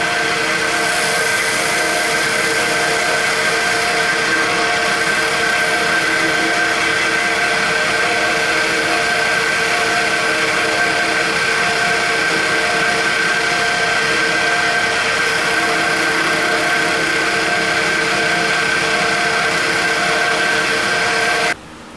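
A wood turning lathe spinning at high speed gives off a loud, steady whirring drone with a constant high tone. It runs without a break for the whole stretch and cuts off right at the end.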